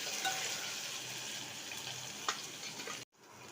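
Ginger-chilli paste frying with cumin in about one and a half spoons of hot oil, a steady broad sizzle close up that cuts off abruptly near the end, no voices.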